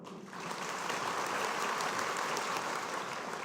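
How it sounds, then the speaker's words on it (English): An audience at a school debate competition applauds an adjudicator, a broad, continuous roar of clapping that swells in quickly and holds steady and full, with no talking over it. "So round of applause for Mr. John Iko"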